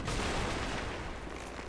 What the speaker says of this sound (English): I'm gonna shoot this motherfucker